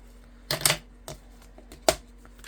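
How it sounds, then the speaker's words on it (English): Scissors snipping paper while making a card with a stamping bundle: a crisp pair of cuts, a faint tick, then one more sharp snip, close and alone. "We can snip that off."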